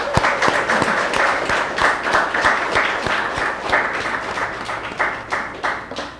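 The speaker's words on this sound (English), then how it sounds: "I want to ask you to give him a special round of applause." Audience applause at a book launch, a room of listeners clapping steadily for about six seconds with individual sharp claps standing out, fairly close and loud, with no talk over it.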